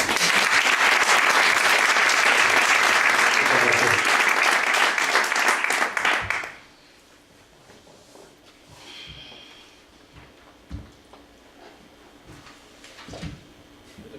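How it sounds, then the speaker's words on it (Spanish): Audience applause fills a hall for about six seconds, a dense, loud burst of clapping that cuts off abruptly into quiet room noise with a few shuffles and footsteps. "Yo pediría un aplauso para él por estos gestos."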